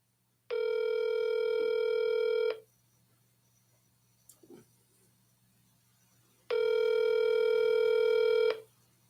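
Two long bursts of phone dialing or ringback tone on an outgoing call, each lasting about two seconds with a quiet gap between, with a faint brief rustle in the middle and no talk.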